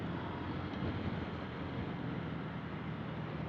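Steady outdoor rumble of wind buffeting the microphone over a constant low engine drone, continuous and fairly loud with no breaks.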